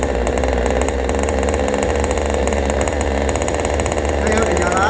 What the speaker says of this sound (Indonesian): Nah ingat proses hidupinnya, ini masukin dulu mantiknya, baru kita engkol.